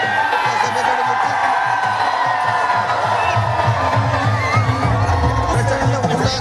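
A large, dense crowd at a Maratha community rally in Nashik roars with sustained cheering, whoops and shouted slogans, loud and continuous throughout with overlapping voices.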